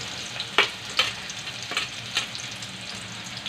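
Onion frying in hot oil in a pan for moong bhaji, a close, steady sizzle with repeated stirring scrapes every half second or so.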